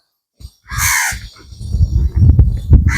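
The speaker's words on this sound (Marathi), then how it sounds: "कावळे पण पाहू शकता त्यांचा आवाज त्यांचा किलबिलाट" Several harsh crow caws at an old temple in Degloor, loud and close, repeating in quick succession with other birds and background bustle underneath.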